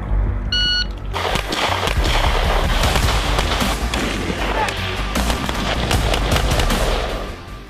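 Rapid bursts of gunfire from a Marine Corps multigun shooting competition, with several weapon systems fired at varying ranges; loud, dense and continuous volleys follow a brief electronic start beep.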